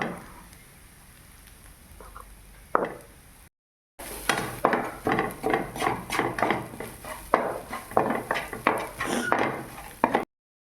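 Spoon stirring egg masala in a pan for kothu chapati, a home kitchen cooking sound: quiet at first, then a steady run of scraping, clinking strokes against the pan after a brief gap.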